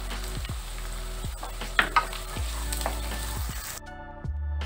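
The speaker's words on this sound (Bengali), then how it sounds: "হালকা করে ভেজে নিয়েছি গাজর কুচি," Chopped carrots and beans fry lightly in a pan with a continuous close sizzle and soft stirring clatter, and the sound drops off abruptly near the end.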